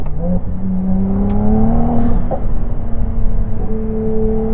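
Ferrari 296 GTB V6 turbo engine accelerating, heard from inside the cabin as a rising tonal drone with climbing pitch through the gears and a faint turbo whir, loud and steady.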